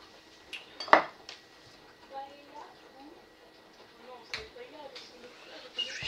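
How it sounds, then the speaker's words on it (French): Cut food for a tuna and parmesan macaroni dish is set onto a plate in a kitchen. A few sharp clinks of dishes and cutlery sound against a quiet background while a voice talks softly. "je mets tout dans la même assiette"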